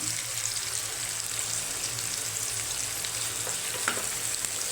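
Onions frying in a pan with ginger garlic paste being added, a continuous even sizzle and crackle of oil throughout, close and steady with no talking.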